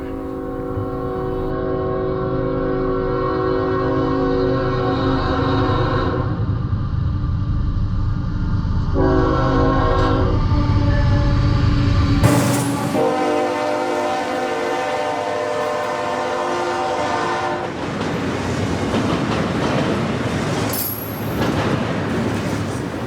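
A loud CSX train rumbles past nearby at an interlocking, its horn sounding in long blasts over the steady roar of wheels and rail cars.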